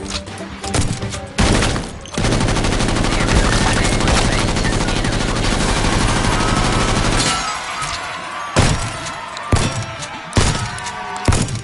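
Heavy automatic gunfire in a cashier-themed video game, a long loud unbroken burst followed by several separate single shots with quieter gaps between them.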